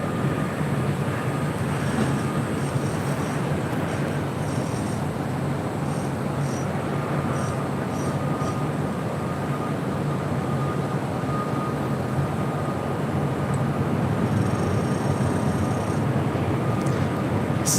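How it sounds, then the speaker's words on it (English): A Delta Airlines Boeing 757-200 jet bound for Mexico City at LAX gives a steady, loud broadband roar with a faint high whine, sustained and unbroken throughout. "This is Delta Airlines Flight 631 heading to Mexico City. Mexico City in a 757-200."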